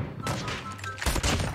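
Sniper rifle fire in a Call of Duty match, with several loud, booming gunshots and dense battle noise filling the short stretch, close and continuous.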